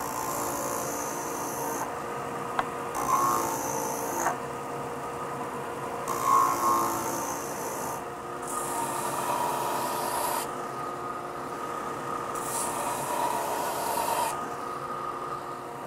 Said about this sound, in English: set up my benchtop belt sander. I'm just gonna go ahead, sand the curve, gonna sand the faces and our ends